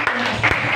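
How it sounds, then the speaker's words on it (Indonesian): Church congregation clapping during a sermon, a brief, dense burst of many hands close by, with a voice briefly heard over it. "Tepuk tangan buat Tuhan"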